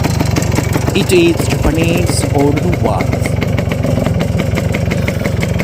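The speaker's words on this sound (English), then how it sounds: "Two-stroke engine and single carburetor and one cylinder." A 1978 Kawasaki KH125 two-stroke, single-cylinder, single-carburetor motorcycle idling close by with a rapid, crackling putter, while someone talks over it.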